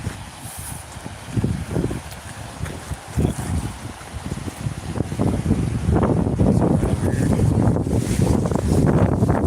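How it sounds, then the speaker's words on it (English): Wind gusts at a waterside spot, buffeting the microphone with rough, rumbling bursts that grow louder and more constant toward the end. "It's gonna be a little windy right here, guys."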